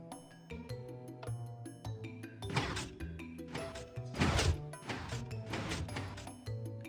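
Sticky pistons moving a flush 2x2 piston door in Minecraft Bedrock Edition, heard as a series of quick mechanical clacks and whooshing bursts over a soft background tune, repeated several times in a loose rhythm.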